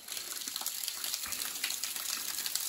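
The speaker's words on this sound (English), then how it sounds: "Came to get a little better shot at the water coming off the rock face" A small waterfall spilling off a rock face on a forest hike, a steady broadband rush of falling and splashing water, close and continuous with no voices.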